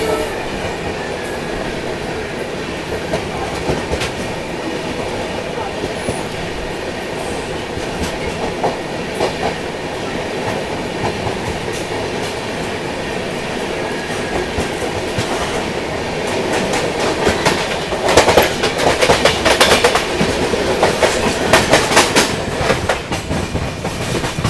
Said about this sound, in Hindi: अभी सामने से ये आ रही है बेंगलोर नई दिल्ली कर्नाटका एक्सप्रेस